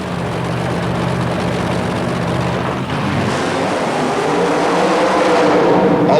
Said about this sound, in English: Next up, the wild Chevy love truck of Tad Rovat, supercharged power in a winged altered wheelbase machine called the Dragonfly